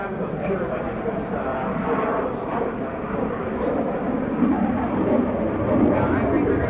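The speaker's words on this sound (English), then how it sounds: "The Super Hornet exceptionally maneuverable, even though it's one big airplane." An F/A-18F Super Hornet fighter jet flying a demonstration at the 2017 NAS Oceana airshow, its broad, steady jet roar filling the whole stretch and swelling slightly toward the end, with voices over it.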